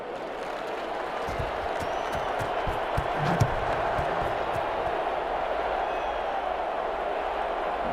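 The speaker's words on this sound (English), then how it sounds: "The crowd roaring for some reason off of that play." A steady, distant stadium crowd roar in the Madden 21 football game, a week 9 RFL matchup in San Antonio, Texas, running evenly throughout with faint thumps and cheers rising briefly midway.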